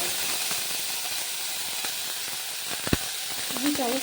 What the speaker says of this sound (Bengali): দিয়ে দিয়েছি আদা বাটা যাতে একটু ভালোভাবে কষিয়ে নেবো যাতে আদা কাঁচা গন্ধটা চলে যায়